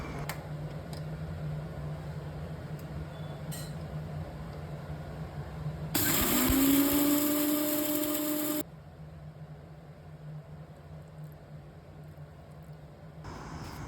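A Geek Robocook grinding roasted spices into a paste for gravy, a loud whirring motor burst lasting about three seconds with a rising whine as it spins up, set between quieter stretches of steady hum.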